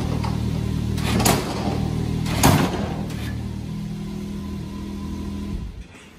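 A KFI 72-inch poly snow plow lowering on a 2020 Can-Am Maverick X3 RC, heard as a steady idling engine drone with a couple of brief mechanical clunks and scrapes before the sound fades out near the end.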